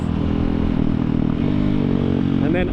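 A KTM 690 dual-sport motorcycle downshifts with a quick shifter, its engine a loud, close, continuous drone with a rising blip near the end, with a rider talking over it.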